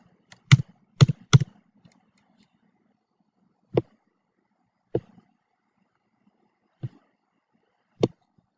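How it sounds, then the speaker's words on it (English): Scattered key clicks from a computer keyboard as letters are typed into a design program: a quick burst of three taps, then single isolated keystrokes spaced out, close and crisp in a quiet room. "Click the text button, type in the letters or numbers."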